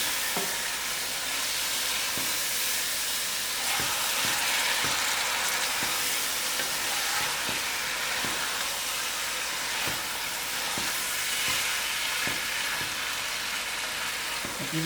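Venison meat coated in masalas sizzles loudly and steadily in a hot pan, with a spoon scraping and stirring through it in regular strokes, close up and with no talking.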